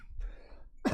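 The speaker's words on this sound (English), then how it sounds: "I may need to get something to drink so I stop coughing." A single short cough, close and fairly quiet, ending in a brief throaty burst.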